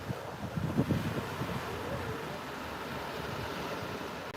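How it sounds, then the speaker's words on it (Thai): Strong wind buffets the microphone on Ko Lan island in the morning, roaring continuously with surf-like rushing and gusty bumps, loud and close with no talking. "ลมแรงมาก"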